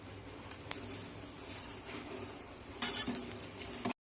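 Oil added around an aloo paratha on a hot pan gives a quiet sizzle with utensil clinks and a brief louder hiss near the end, with no talking.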